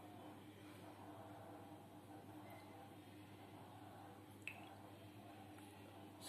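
A lemon being squeezed by hand, giving soft wet squishing and a few faint drips of juice, quiet and close over a low background hum.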